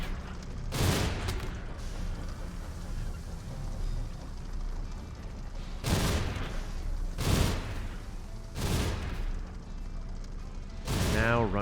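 Video game gunfire, a few separate loud bursts spaced several seconds apart over a steady background bed, with voices talking between the shots.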